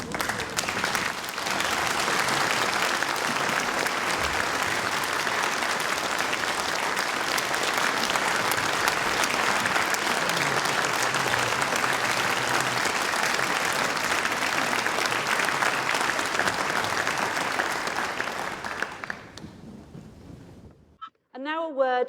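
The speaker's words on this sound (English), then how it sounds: "show your thanks to those who've helped you to this point in your life by now giving them your applause" Sustained loud applause from a large audience at an Oxford University degree ceremony fills the room steadily for about eighteen seconds before dying away, then a voice starts speaking.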